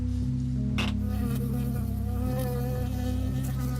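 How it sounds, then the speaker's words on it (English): A bee in the video game Firewatch gives a steady, close insect buzz with a wavering drone that holds for a few seconds, alone without any speech. "Got stung by a bee, it happens."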